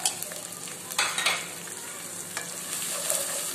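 Ground spices (chilli, turmeric, roasted coriander and cumin) roast in a pan for bhagara baingan, giving a soft, steady sizzle with a few scraping stirs of a spoon against the pan, close by and without talk.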